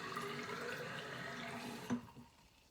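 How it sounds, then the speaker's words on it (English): Water runs from a tap into a 500 ml measuring cylinder as a steady, close, soft rushing stream. A brief clunk follows, then the flow stops and fades to quiet. "So I'm going to fill this one up."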